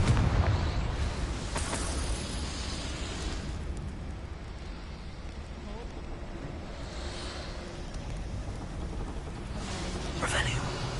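Confringo fire spell blasts in Hogwarts Legacy, a dense, sustained roaring burst of noise lasting several seconds with a louder flare near the end and no speech.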